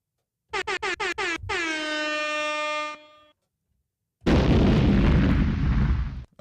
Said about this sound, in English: I thought I'd kick it off with the air horn